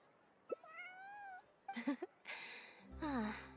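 A cat gives a few short meows and a longer drawn-out mew, close and fairly clear against a quiet background.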